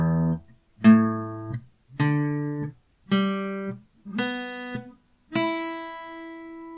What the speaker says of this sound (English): you want to be in standard tuning, which are E,